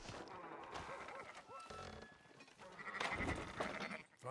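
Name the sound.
sheep bleating in video game Red Dead Redemption 2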